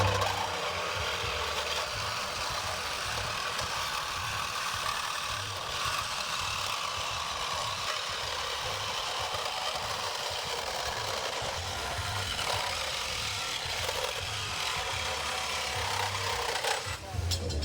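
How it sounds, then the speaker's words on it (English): A Diablo saw blade with black ice coating and carbide teeth cuts steadily through material, a loud continuous grinding rasp that holds nearly unbroken for the whole stretch before easing at the end. "here we go with the Diablo blade, black ice coating, carbide teeth, V-filler."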